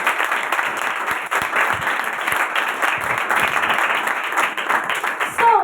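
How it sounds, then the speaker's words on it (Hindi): A church congregation claps loudly at a Mother's Day service, a lively, uneven burst of many hands heard nearby, with some cheering mixed into the steady applause. "मेरे खुदावन के लिए जोरदार तालियां बजाइए।"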